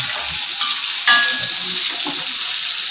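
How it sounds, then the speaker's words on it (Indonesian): Eggplant frying in oil in a pan, a steady close hiss of sizzling with a few brief clicks and stirs, no talk over it. "Kita terongnya lagi digoreng"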